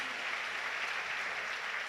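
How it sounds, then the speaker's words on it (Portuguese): A women's conference audience applauds at a church gathering, giving a dense, steady wash of clapping that holds evenly for a couple of seconds, moderately distant and without breaks. "Aplauda ao Senhor Jesus por isso."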